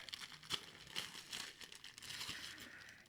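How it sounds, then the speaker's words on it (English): Faint crinkling and tearing of wrapping paper as a Christmas present is unwrapped, a few soft rustles and rips close by with no talking. "let's unwrap it"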